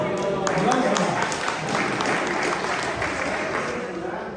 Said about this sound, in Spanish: un aplauso, por favor. Aplauso.